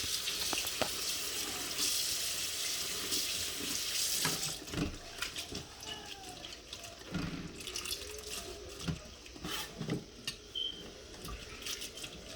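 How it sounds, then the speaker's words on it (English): Running tap water pours steadily into a sink while cicadas are rinsed, with splashing and dripping, handling noises and occasional knocks, fairly close and with no talk. "You have to give it a good wash."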